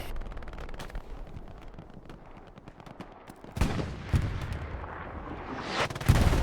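Bombing-run explosions in the World War II shooter Hell Let Loose: scattered distant gunfire cracks give way to heavy, booming blasts that land in a loud cluster near the end, each one rumbling and trailing off.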